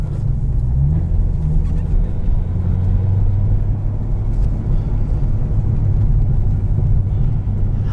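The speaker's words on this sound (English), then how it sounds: "Oh, nice little burbles from the exhaust" A 2012 Chevrolet Corvette Z06 drives over rough terrain, its exhaust giving a steady, close, low burbling rumble throughout, with no talking.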